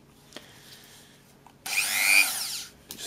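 A Draper rotary tool with a stiff abrasive wheel spins up at high speed for about a second of loud, hissing whine, with faint taps and handling noise before it, on a Honda Denso alternator bearing job.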